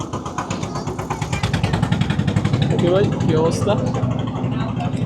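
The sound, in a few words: engine of a departing river boat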